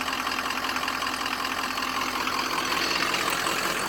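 A 2003 Ford 6.0 Powerstroke diesel idles as it warms up, giving a steady, even rumble with a faint rapid knock throughout and no change in pace.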